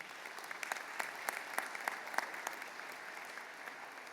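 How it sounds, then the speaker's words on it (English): Audience applause at a fall college commencement ceremony, a steady patter of many hands clapping that stays moderately loud throughout and eases slightly toward the end. "And I think they deserve another round of applause right now."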